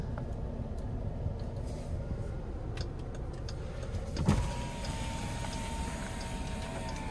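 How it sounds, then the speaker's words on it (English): Front power windows of a 2017 Jeep Grand Cherokee run with a steady electric motor whine that starts after a click and hums on for several seconds inside the quiet cabin. "The front row windows are fully automatic."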